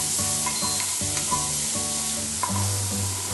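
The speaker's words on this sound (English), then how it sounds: "we've got our bacon sizzling away in the pan with the butter" Bacon sizzling loudly in a hot pan with butter for a morel cream sauce, a constant crackling fry punctuated by clinks and scraping as it is stirred.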